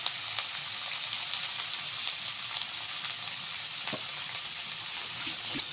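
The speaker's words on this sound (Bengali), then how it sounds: "এবার সবজিগুলো আমি একটু ভেজে নিচ্ছি" Mixed vegetables with cabbage and carrot frying in a pan over high heat, giving a steady soft sizzle with a few faint clicks, close and continuous, no voices.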